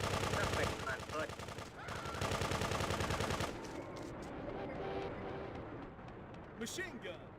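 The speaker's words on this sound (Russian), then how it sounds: "Machine gun." Rapid bursts of machine gun fire in the video game GTA2 rattle continuously, loud and dense, then give way to scattered shots and noise.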